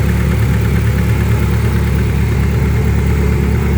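A VW Beetle fitted with a Subaru engine idles in a steady, even, low rumble, close by and uninterrupted.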